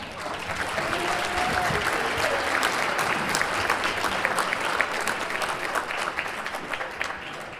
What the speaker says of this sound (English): And how about a round of applause for Don Langenauer?